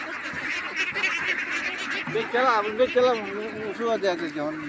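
Large flock of over two thousand ducks at a farm in the vast haor wetlands, a dense continuous chorus of loud honking quacks, close and overlapping, with a voice speaking through it.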